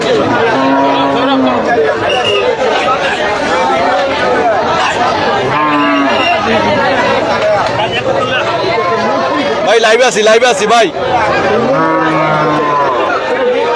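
Cattle low repeatedly at the crowded Gabtoli cattle market in Dhaka, with several deep drawn-out moos rising over constant crowd chatter. Someone speaks close by throughout.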